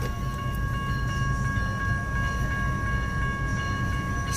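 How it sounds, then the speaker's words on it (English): BNSF intermodal trailer train led by an old warbonnet-painted locomotive rolls past a crossing, a loud continuous rumble of wheels and cars with steady tonal squeals, close and unbroken. "It's a trailer train. And I can already tell it's got an old war bonnet on it."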